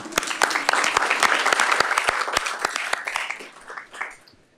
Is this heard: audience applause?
yes